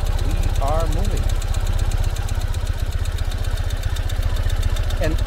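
A 2021 Ural cT motorcycle engine pulling away from a stop, its steady low throbbing putter running loud and close throughout, with a few brief squeaky tones on top.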